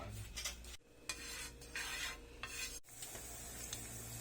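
Garlic frying in a generous amount of oil, a broad sizzle with brief stir and pan scrapes, close and fairly loud, interrupted by two short cuts.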